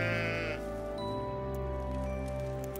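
A sheep bleats over a sustained tonal music bed in a film about Jesus, one wavering cry near the start followed by soft background music.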